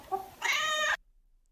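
A cat gives a short, clear meow, preceded by a brief faint chirp, then silence; close and alone in a studio setting.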